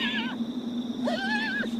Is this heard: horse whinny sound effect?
yes